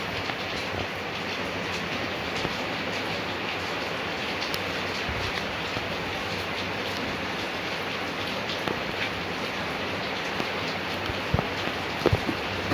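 A train passes inside the Granny video game, a steady dense rumbling wash with faint rhythmic rail clatter and a few sharp knocks near the end, continuous and fairly loud.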